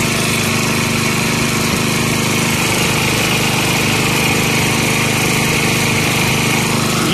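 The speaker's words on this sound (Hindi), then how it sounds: "जनरल केस में होल्स को बोल्ट होल करवाने के लिए ये हमारा मशीन चल रही है।" A machine drilling bolt holes in a rail fish plate, with water added to reduce friction, runs as a loud, steady engine-like drone from start to finish with no one speaking.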